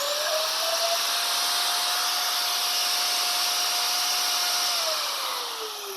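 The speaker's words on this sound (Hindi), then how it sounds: "आप इस ग्राइंडर को बंद करके फिर से चालू करेंगे तभी ये ग्राइंडर चालू होगा।" A Velmoc 4 inch angle grinder runs at full speed, a loud continuous high whine with a steady pitch that drops slightly as the motor begins to slow in the final second.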